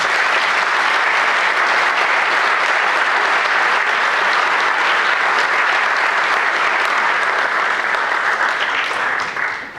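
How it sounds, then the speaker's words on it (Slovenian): A crowd at a municipal holiday award ceremony in Laško claps in sustained, dense applause that stays loud and even throughout, with no talking over it. "dajmo še en aplavz"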